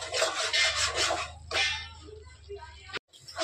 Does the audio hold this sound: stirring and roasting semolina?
yes